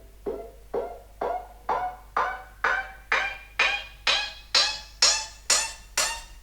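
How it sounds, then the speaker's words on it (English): An upriser effect built from a sample, heard alone: a series of about eleven evenly spaced swooshing hits, each brighter and higher than the last, climbing steadily in pitch and intensity. "There is this one upriser which I made from a sample"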